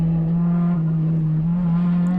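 A race car trail brakes into a corner at Sonoma Raceway, its engine holding a loud, steady droning tone that dips slightly while the car slows through the turn.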